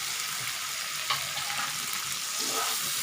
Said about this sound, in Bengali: মাছগুলো উঠিয়ে আমি মশলাগুলোকে আবার খুব ভালোভাবে নেড়ে চেড়ে নিচ্ছি।